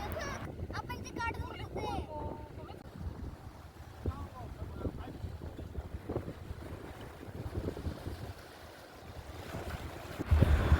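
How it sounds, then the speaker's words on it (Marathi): Sea waves wash onto Redi beach on the Konkan coast, a continuous surf rumble with wind buffeting the microphone and a rustling, roaring texture. People talk faintly beneath it. "थंडगार हवा, समुद्राचं गार पाणी आणि येणाऱ्या समुद्राच्या लाटा"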